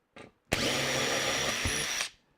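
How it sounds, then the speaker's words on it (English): A power drill bores through wood: a brief buzz, then a steady, loud whine lasting about a second and a half before it cuts off. "So basically I've drilled all the way through to there"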